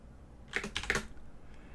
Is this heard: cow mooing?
no